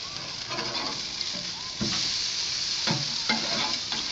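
Burgers and other meat sizzle on an outdoor grill over a fire, a steady close frying hiss with scattered crackles and pops and a few sharper bursts, no talking.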